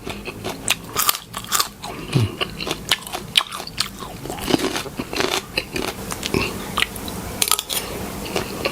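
Close, wet crunching of spicy fermented fish with bones being chewed, irregular bites and crackles repeating throughout with small scrapes between.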